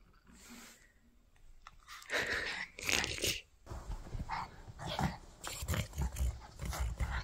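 A pet dog, called Baby, makes soft vocal sounds and moves around close by, with snuffling and chewing-like noises. The sounds come in bursts over a noisy indoor background.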